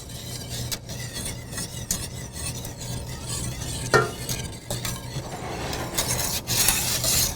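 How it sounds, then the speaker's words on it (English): Vanilla custard stirred in a pot on the stove with a whisk or rubber spatula, giving a steady close scraping and swishing with faint sizzle, continuous and fairly quiet, with no one talking. "you can use a whisk or you can use a rubber spatula, whichever you prefer, to keep the custard moving."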